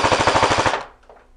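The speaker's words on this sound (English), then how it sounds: "Then a burst of full auto." A Cyma CM.600 airsoft electric gun on a shooting range fires a rapid full-auto burst of about a dozen evenly spaced snaps in under a second, loud and close, then stops abruptly.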